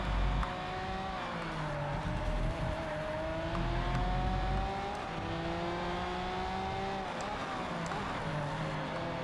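The Lamborghini Sian's racing engine drones steadily during a race in the video game Project Cars 3. The engine is loud, with pitch shifts as it revs and changes gears, and other cars blend in beneath it.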